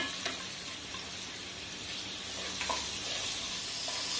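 Chopped onion, ginger and green chillies sizzle steadily in oil in a pan for corn and pea pulao, with a few soft scrapes of stirring over the hiss and no voices.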